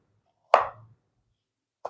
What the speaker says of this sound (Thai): อันนี้เราก็จะปาดหั่นครึ่งสักหน่อยนึงนะครับ